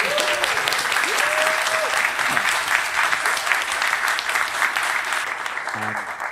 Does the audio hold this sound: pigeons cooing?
no